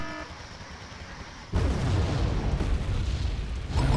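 Thermobaric bombs dropped by a MiG jet explode in the video game Wargame Red Dragon. A sudden deep, roaring blast cuts in after a quieter stretch and rumbles on loudly, with a second surge at the very end.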